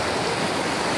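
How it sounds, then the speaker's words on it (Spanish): High ocean waves at a beach make a dense, continuous roar of surf, loud and steady across the whole short moment with no voices. "Están bien altas las olas."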